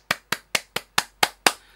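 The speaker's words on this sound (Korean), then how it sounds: "자, 여러분들에게 박수." Seven sharp, evenly spaced hand claps from a single person during an online university lecture, close and dry, with silence between them.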